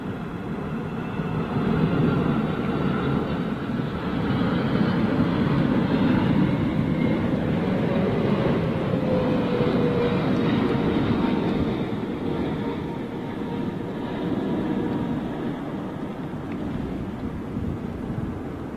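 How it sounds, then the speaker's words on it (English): An All Nippon Airways Boeing 777 jet gives off a deep, sustained engine roar. The sound stays loud and steady, easing slightly toward the end, with no talk over it. "All Nippon Airways 777."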